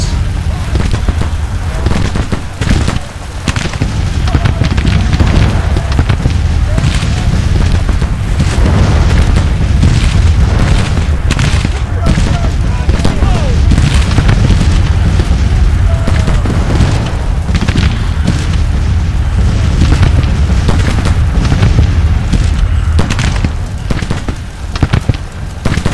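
Cannon fire from a Civil War battle at Winchester in the Grand Tactician strategy game: a dense, continuous barrage of overlapping booms and rumbling blasts that stays loud throughout, with faint voices buried in the din.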